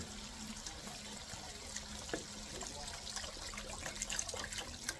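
Chicken broth poured into a pan while cooking a boneless milkfish (bangus) steak, giving a steady liquid trickle and splash that runs throughout at moderate, even loudness.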